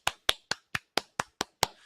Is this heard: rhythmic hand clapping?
yes